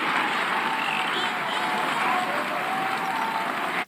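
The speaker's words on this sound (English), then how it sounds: "Where are those crowd sounds coming from?" Steady crowd murmur and scattered cheering from a Jaws film scene, a dense, continuous wash of many voices at even loudness that cuts off abruptly at the end.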